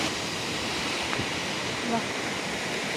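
Two mountain streams meet at a confluence near Bhojpur, rushing water forming a loud, steady broadband roar close by, with a brief spoken word over it.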